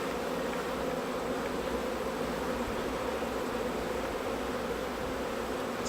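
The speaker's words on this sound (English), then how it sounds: "It's kind of hard with this many bees" Dense swarm of honey bees buzzing around an open hive frame, a steady close hum that stays even and continuous throughout, with no voices.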